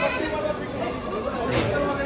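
Kathiawadi goats, round-horned does including pregnant ones and mothers with kids, bleat at a large Maharashtra goat and sheep market, the calls blending into dense crowd noise while someone speaks over them.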